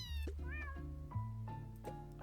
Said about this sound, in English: Itty bitty kitty.